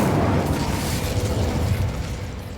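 An Incendio fire spell cast in a wizarding video game: a loud fiery burst with a crackling, roaring rush that slowly fades over a few seconds.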